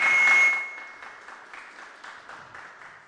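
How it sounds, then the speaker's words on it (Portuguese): Applause from an audience at a tax seminar, a short loud burst that fades quickly into scattered, lighter clapping. "Salva de palmas para ele também."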